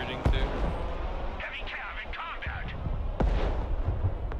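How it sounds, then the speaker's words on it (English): Booming MLRS rocket artillery barrages in the war game Broken Arrow, a few heavy thuds and rumbling blasts over continuous battle noise, with players talking throughout. "I'm trying to fire MLRS in front of them"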